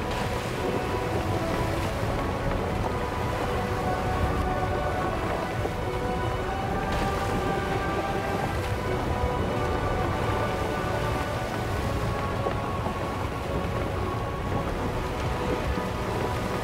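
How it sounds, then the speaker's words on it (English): Low, steady rumbling with a rain-like wash as a spire sinks into the sea in the pirate video game Sea of Thieves, continuous and fairly loud throughout, with no voices. "Yep, that's the spire sinking now."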